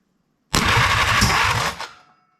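A Willys CJ-2A Jeep engine fires on ether, giving one loud, close burst of rapid rough chugging that runs about a second and a half and then fades quickly to silence.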